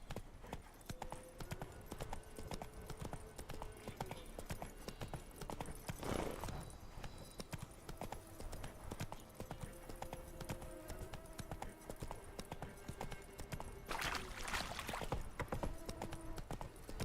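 Roach, a horse in The Witcher 3 video game, gallops with a rapid, unbroken clatter of hooves, joined by two brief louder whooshing rushes of movement noise partway through.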